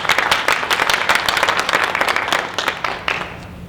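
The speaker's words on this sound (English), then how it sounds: "Let's give him a round of applause." An audience at a gun safety presentation gives dense, lively applause, with many hands clapping together loudly and close by for several seconds.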